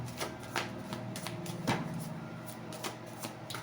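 Tarot cards being shuffled by hand, a steady run of soft riffling and tapping clicks, close and quiet with no talking.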